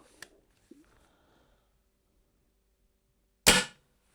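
A single sharp shot from a Walther LGU air rifle cracks out once, close and short, after a quiet pause with a few faint clicks.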